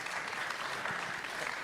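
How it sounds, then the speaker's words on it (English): Audience applause at a security-track session of a FOSSASIA tech summit, a steady wash of clapping from a room of attendees holding even volume throughout with no talk over it. "A round of applause, please"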